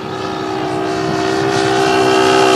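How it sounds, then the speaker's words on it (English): Engine of a fast vehicle passing, a loud sustained tonal drone that grows steadily louder as it approaches, with a steady pitch and no voices over it. "Now, listen carefully to the sound of the engine."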